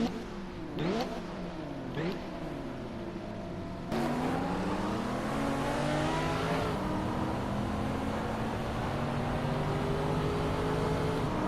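A pack of race cars roars off at the start of a race as several engines rev up together, then rises into a loud sustained drone of many cars accelerating close by.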